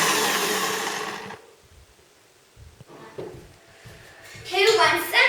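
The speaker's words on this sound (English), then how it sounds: "we have to mix it on high speed" An electric mixer whips cream on high speed, a loud steady whir for over a second that cuts off, followed by quieter clatter and a voice speaking at the end.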